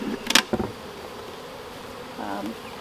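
Honey bees buzzing in a new hive being fed syrup, a few close buzzing passes with short clicks early on and a fainter hum later.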